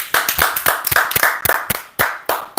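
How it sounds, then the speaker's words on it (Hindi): A small group claps hands in quick irregular bursts during an electronic maze game, close and crisp, with brief pauses between rounds and no speech. "तालियां"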